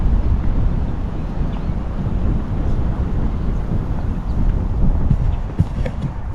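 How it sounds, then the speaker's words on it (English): Steady wind buffets the microphone with a low, continuous rumble that barely changes over several seconds, heard outdoors in a park by a river with no one talking. "Windy."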